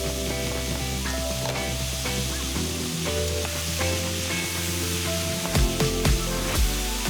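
Diced red onions, celery and carrots sizzle loudly and steadily in a pan with lamb for a ragu, a dense unbroken hiss with a few clattering knocks of the spoon near the end.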